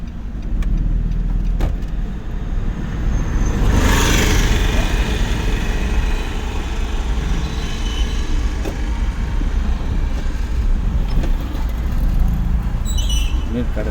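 Car on the road during a driving lesson, a continuous engine and road rumble with traffic noise throughout, a brief whooshing swell near the middle, and an instructor talking over it.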